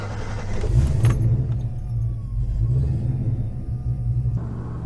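Low engine rumble of a truck with 373 gears rolling along steadily on a shakedown drive, with a brief metallic jangle early on and a faint whine as it drives.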